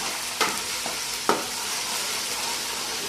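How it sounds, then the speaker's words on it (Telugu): Ginger paste frying in oil in a pan, a quiet steady sizzle with a couple of soft stirring taps. "ఆయిల్లోనే మగ్గాలి, మంచిగా మగ్గాలండి ఆయిల్లోనే."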